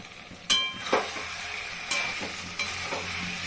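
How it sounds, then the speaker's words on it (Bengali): Jackfruit and masala sauté in a pan over a medium flame for an echor chingri dish, a steady close sizzle broken by several sharp scraping stirs of a spatula, with no talking. "ফ্লেম দিয়ে আমি কষাবো মশলাটাকে ভালো করে।"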